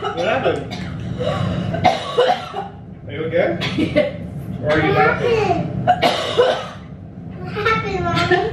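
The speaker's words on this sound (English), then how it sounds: "I have like the end of a cough right now" A child coughs several times in short, close bursts, mixed with loud nearby voices and chatter indoors at a family meal.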